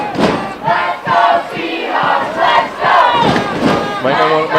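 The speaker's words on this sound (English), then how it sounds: "We hear the Nanaimo Seahawks fandom who made the short travel down from Nanaimo on the Island Highway, cheering on their offense" Football fans of the Nanaimo Seahawks at a Bantam 9M provincial game against White Rock cheer and chant for their offense, loud rhythmic crowd shouts rising and falling in repeated bursts.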